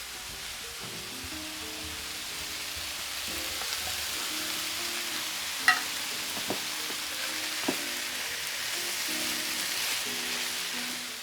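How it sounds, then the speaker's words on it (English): A keto chicken casserole with green chilies simmering in a pan, giving a soft, steady sizzle and bubbling with a few faint clicks, quiet and with no talk. "We are just going to combine everything and let it simmer for probably about 5 minutes"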